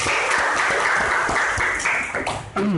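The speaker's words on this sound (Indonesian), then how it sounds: "Tepuk tangan biasanya." A burst of applause from a crowd, dense clapping that fills the room before tapering off near the end.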